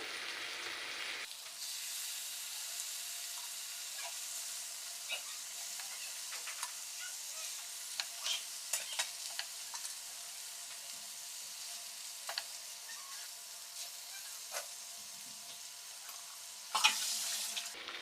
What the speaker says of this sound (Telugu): ఇప్పుడు ఫిష్ వచ్చేసి ఇందులో వేసుకున్నాం సిమ్లో నుంచుకొని ఒక్కొక్కటి వేసుకోవాలి